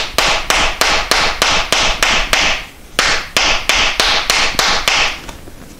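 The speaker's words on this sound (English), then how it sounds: "I have this hammer that you can use to start forming those shapes" Steady, ringing hammer blows shape sheet-metal floor pan on a Porsche 912 during rust repair, striking in an even rhythm, about two per second, with a brief pause midway before the pounding resumes.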